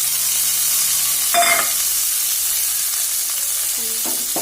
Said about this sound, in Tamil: இப்போ நான் சின்ன வெங்காயத்தை இதில் சேர்த்துக்கிறேன்.